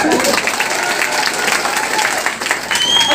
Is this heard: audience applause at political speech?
yes